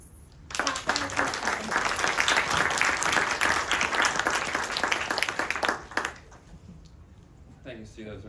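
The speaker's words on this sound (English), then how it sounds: "let's give him a warm round of applause" Warm, sustained audience applause welcoming a distinguished speaker, dense and even clapping from a full room for about five seconds that ends sharply, then a voice begins speaking.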